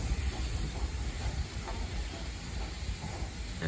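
Steam locomotive 73156 at a heritage railway gives off a continuous broadband hiss of escaping steam, moderately loud and steady throughout with no voices.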